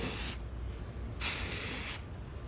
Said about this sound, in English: I'm gonna spray some more again